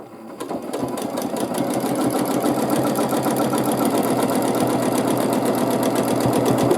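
A domestic sewing machine stitches arches across a baby quilt, its needle chattering in a steady rapid rhythm that runs continuously and close up, loud and alone with no talk.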